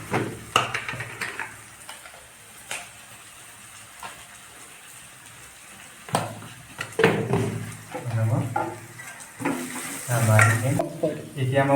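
Turmeric and salt fry in hot oil in a pan while being stirred, a soft steady sizzle broken by scraping strokes and clinks, with a person talking intermittently over the cooking.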